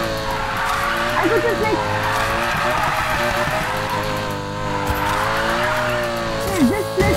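A Lamborghini Huracan drifts in a video game, its engine droning while tires squeal in repeated wavering bursts, all under continuous excited talk from a player.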